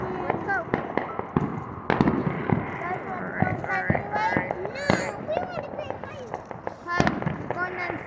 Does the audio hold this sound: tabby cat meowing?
no